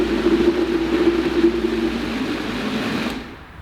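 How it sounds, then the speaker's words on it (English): A Vitamix blender runs on a low setting, a steady close motor whir with a grinding hum that holds evenly, then winds down and fades near the end. "the Vitamix is a pretty good blender"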